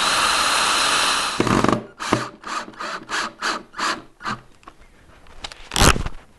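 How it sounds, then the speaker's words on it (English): A drill boring pilot holes during a lathe station build gives a loud, steady whirring burst lasting over a second, followed by a series of short, rhythmic grinding and scraping bursts close by. "Now I can go ahead and drill some pilot holes."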